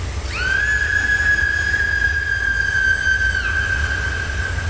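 Train whistle in a train simulator video game, one long steady blast of about three seconds over a low engine rumble, with no talk.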